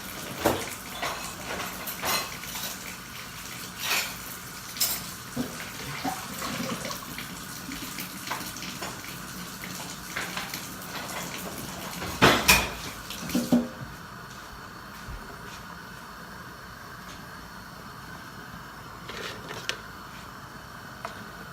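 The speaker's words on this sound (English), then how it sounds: "Wash all my dishes real quick here." Dishes being washed in a kitchen sink under running tap water, a steady splashing flow with clinks and knocks of crockery and a louder clatter midway, then a quieter trickle toward the end; no talking.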